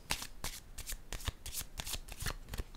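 Tarot cards shuffled by hand in a burst of about ten quick riffling swishes with short gaps between them, close and fairly quiet, with no talk.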